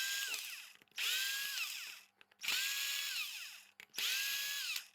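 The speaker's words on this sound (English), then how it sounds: "So let's just remove the screws as a first small test." An old electric drill fitted with a homemade 18650-cell battery pack unscrews screws from wood: three close, loud whirring bursts that rise in pitch as each screw spins free, with short gaps between them and no speech.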